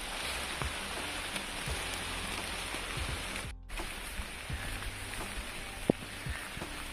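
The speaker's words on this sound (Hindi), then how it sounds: "यहाँ जोर की बारिश शुरू हो गई है" Steady heavy rain pours down in a jungle near a railway track, a dense hiss of drops pattering on leaves and ground nearby, with occasional louder drips and no voices.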